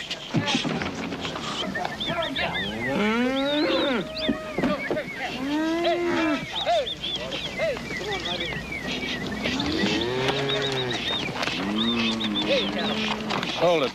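Cattle moo and low in drawn-out, rising-and-falling calls, several animals overlapping near and far, with people's voices calling out among them.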